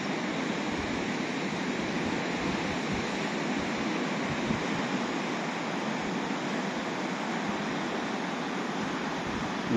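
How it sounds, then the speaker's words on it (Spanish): Sea surf on the coast at San Juan de la Arena, a continuous broad wash of breaking waves, steady and full with no distinct individual crashes and no voices. "Está la mar muy guapa hoy."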